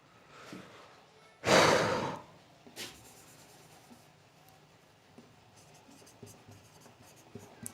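Marker or chalk writing during a classroom-style lesson, one loud scratchy stroke followed by a shorter one and then faint intermittent scribbling, close and without speech.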